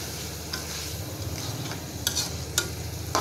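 Gochi fish, also called gutum fish, cleaned and cut, hit a hot pan with a close sizzle, and a few sharp scraping clatters come near the end. Nobody speaks.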